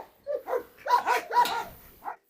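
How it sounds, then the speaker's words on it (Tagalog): A dog named Escobar lets out a short series of sharp, close barks, four or five irregular yelps in quick succession followed by a brief whimpering bark at the end. "Alam mo yung tahol ni Escobar"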